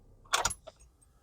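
Car keys jangle in a quick metallic burst as the car is switched off, followed by a single softer clink and then quiet.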